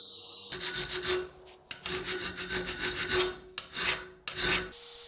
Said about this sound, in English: using a hand file in the areas the grinder couldn't reach